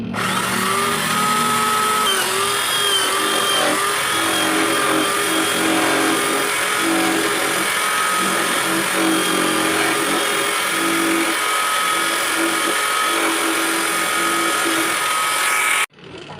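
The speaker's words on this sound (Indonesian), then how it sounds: "Selanjutnya kita bor sesuai dengan ukuran lubang jari yang akan kita pergunakan." A power drill whines steadily and loudly, boring through coconut shell without pause, then stops abruptly at the end.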